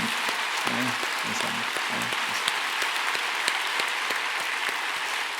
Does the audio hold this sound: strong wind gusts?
no